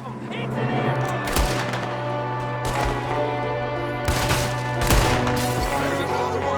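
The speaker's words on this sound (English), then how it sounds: "There's another one shooting from the window." Gunfire crackles through an ambush shootout in Red Dead Redemption 2, dense repeated rifle and pistol shots from several shooters ringing out loud over a droning game score, with brief shouts mixed in.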